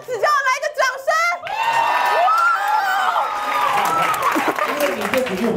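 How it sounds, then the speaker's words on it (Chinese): At a 2020 stand-up comedy competition final, a voice talks briefly before the audience erupts into loud, sustained applause mixed with cheering and whoops that lasts to the end. "来个掌声"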